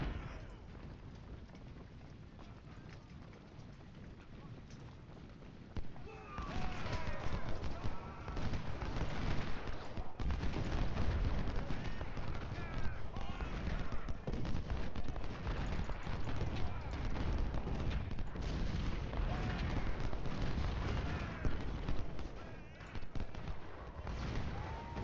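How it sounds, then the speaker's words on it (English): Artillery fire in the video game Ultimate General: Civil War sounds as a steady rumble of distant booms and crackling volleys, thickening partway through into dense, continuous battle noise at moderate loudness. "Looks like we're taking some artillery fire."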